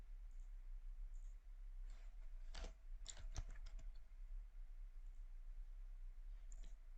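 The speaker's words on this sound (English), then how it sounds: "Type in your domain name." Typing on a computer keyboard while setting up domain records, a faint, close cluster of quick key clicks in short bursts with quiet pauses between, no voices.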